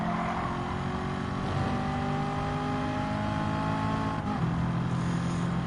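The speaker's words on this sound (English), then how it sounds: "just to be passed by on the red Dodge Viper" A red Dodge Viper race car in Gran Turismo 7 sweeps past on the Nürburgring Nordschleife, its engine a steady loud drone with rising and falling harmonics as it goes by, and no one talks.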